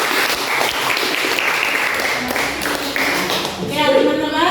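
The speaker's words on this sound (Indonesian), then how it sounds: "Tepuk tangan untuk Mei." Students in a classroom clapping for a classmate during a science lesson: dense, steady applause from many hands close by, swelling slightly near the end as voices join in.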